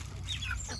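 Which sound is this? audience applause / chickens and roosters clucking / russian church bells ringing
chickens and roosters clucking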